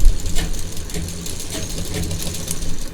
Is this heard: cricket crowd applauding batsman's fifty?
no